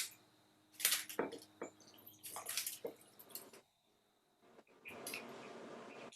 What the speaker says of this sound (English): And I do need to pour some wine.